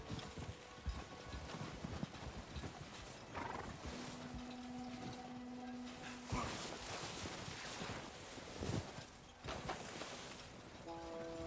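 Horse hooves clip-clop steadily in Red Dead Redemption 2, a continuous rhythmic trot with occasional whinnies and snorts over dense outdoor game ambience.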